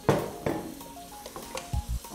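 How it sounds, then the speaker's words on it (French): Beef shank sears in a saucepan with onion, giving a steady sizzle broken by a few sharp clicks and knocks of stirring and utensils against the pot. "il faut rajouter notre jarret de bœuf dans la casserole"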